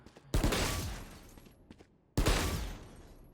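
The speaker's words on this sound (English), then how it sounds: "So if I just click mouse 1, what it does is shoots burst fire." The Bulldog rifle in the game Valorant fires two loud, close bursts of rapid shots, each followed by a decaying echo tail, with a short quiet gap between them.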